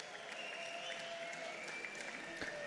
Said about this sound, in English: I've been hearing some cheers for Mouz